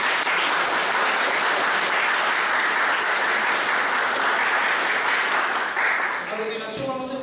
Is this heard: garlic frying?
no